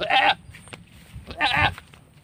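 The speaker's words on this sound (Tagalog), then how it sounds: "Oh, nabubulunan yata yung kambing ah." Two short goat bleats a moment apart on a ranch, moderately close, with quiet outdoor background between them.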